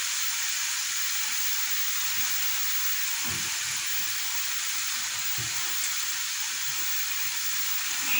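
Pişi dough fries in hot oil in a pan with a dense, continuous crackling hiss, close and even, broken by a few soft low knocks as the pan is shaken.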